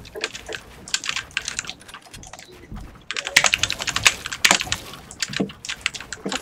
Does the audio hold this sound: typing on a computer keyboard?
yes